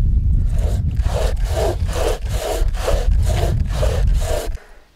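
A saw cuts through wood in a forest, with about eight steady back-and-forth strokes rasping loudly up close before stopping abruptly near the end, with no talk.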